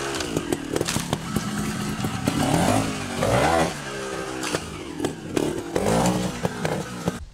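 A trials motorcycle revs in sharp bursts as the rider pops the clutch to jump onto an obstacle on muddy ground, the engine climbing and dropping repeatedly, close and loud, alone without talking.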